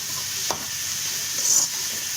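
Soft scraping of a spoon stirring country chicken soup with turmeric in a pot, with a faint steady sizzle underneath and a brief louder clink partway through.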